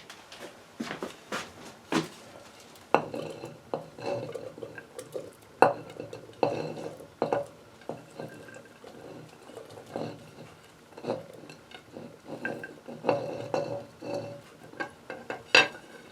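Chilies and other ingredients go into a cooking pot on a low fire in a cabin kitchen: scattered clinks, scrapes and soft patters of metal and food, some sharp knocks, with quiet gaps between.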